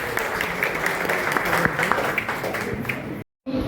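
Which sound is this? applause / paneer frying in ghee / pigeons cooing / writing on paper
applause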